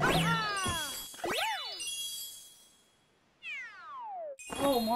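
Cartoonish cat meows and bright chiming jingles from the video game Mario 3D World, several rising and falling meow calls followed by a descending tinkle, loud and close with no talk.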